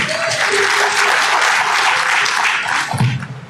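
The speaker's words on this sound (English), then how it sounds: "give yourselves a big round of applause" Audience at a South Florida diaspora launch event bursting into sustained, loud applause, a dense wash of clapping that tapers at the end as a voice begins.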